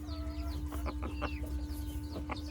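A pair of golden painted silkie chickens, a Chinese breed, cluck in short, soft bursts close by over a steady low hum and faint background chirps.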